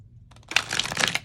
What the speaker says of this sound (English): So bridge shuffling is great